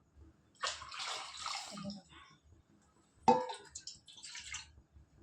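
Water poured into a pressure cooker of food comes in two separate gushing splashes, each lasting about a second and a half, with a quiet pause between them and soft background sounds.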